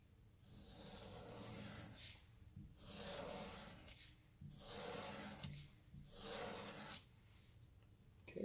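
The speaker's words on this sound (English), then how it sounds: "So we're going to try to clean that off. We're going to do nice long strokes as the instructions said." Onewheel grip tape scrubbed clean with long strokes, a soft, close rasping rub in several steady passes separated by brief pauses, with no talk.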